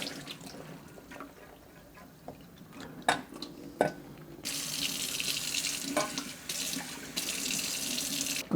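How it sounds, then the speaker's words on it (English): Water from soaked Persian split peas pours down into a kitchen sink, starting with a few scattered splashes and drips and then settling into a steady, loud gush of draining water. "So I'm going to drain the water."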